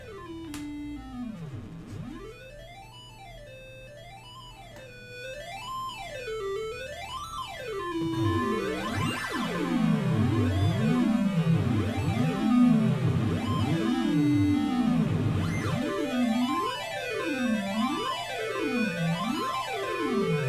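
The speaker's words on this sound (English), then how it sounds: "what you're hearing there is the output from 3 direct digital synthesis synthesizers" Three direct digital synthesis synthesizers on an FPGA sonify a Lorenz system as gliding electronic tones that swoop up and down in looping, wavering arcs, getting louder and denser as more voices join, with no speech.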